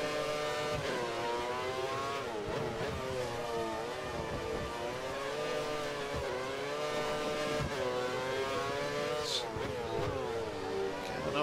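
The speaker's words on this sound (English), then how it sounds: "Getting an awful lot of wheel spin coming out of these corners." Racing car in a racing video game, engine revving hard with rising and falling pitch as the tyres spin out of corners, steady and loud throughout with a voice talking faintly underneath.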